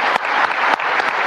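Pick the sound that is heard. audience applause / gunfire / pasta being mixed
audience applause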